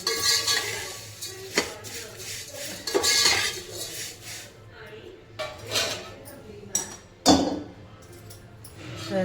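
Roasted poha is scooped out of a pan, with irregular metallic clinks and scrapes of a utensil against the cookware, some sharp knocks standing out, while a person talks between them.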